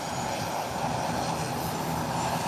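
An Airbus airliner takes off from Howard Hamilton International Airport, a continuous dense jet roar filling the clip at steady loudness, fairly close, with no talking.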